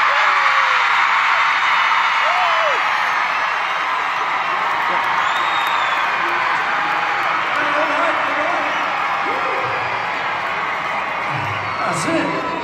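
A crowd of girls in a concert audience lets out a sustained high-pitched scream, dense and continuous with scattered whoops rising above the wash, loud and unbroken for the whole stretch.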